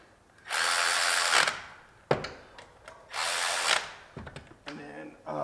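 A power tool drives the bolts on a Stewart EMP performance water pump housing for a 2000–2011 Lincoln Town Car or Ford Crown Victoria, with two loud sustained whirring bursts and several short clicks and zips in between, close by.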